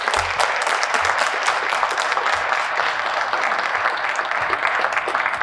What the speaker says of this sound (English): Please join us in giving Matthew a round of applause and a welcome.